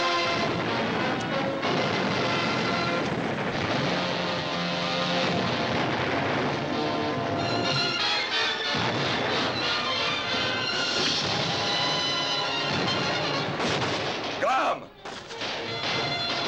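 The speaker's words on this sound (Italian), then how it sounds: "Continuate a sparare sul Revenge" Cannon blasts and gunfire from pirate ships firing on the ship Revenge in a sea battle, a dense, continuous roar of booms and cracks blended with a loud orchestral score for the whole stretch.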